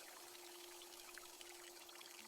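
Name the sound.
tomatoes being washed with pouring fresh water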